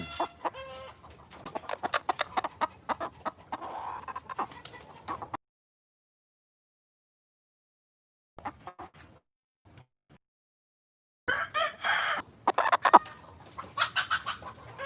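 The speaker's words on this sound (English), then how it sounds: "There's my chicken." Chickens clucking and a rooster crowing close by in bursts, with a long silent gap in the middle and louder squawking toward the end.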